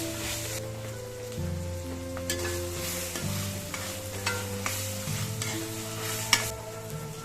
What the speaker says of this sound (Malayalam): ഇത് നല്ലപോലെ ഒരു ഗോൾഡൻ കളർ ആവുന്നവരെ ഒന്ന് വഴറ്റിയെടുക്കണം.